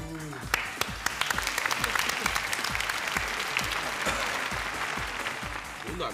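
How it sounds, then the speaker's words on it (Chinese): A studio audience at a Cantonese TV game show breaks into sustained applause, dense, sharp clapping close by that keeps going throughout, with a voice talking over it. "拍手掌硬係鼓勵咁樣"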